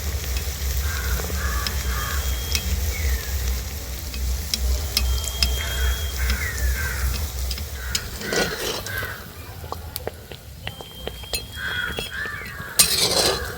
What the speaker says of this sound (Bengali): এইভাবে লাল লাল করে ভেজে নিয়েছি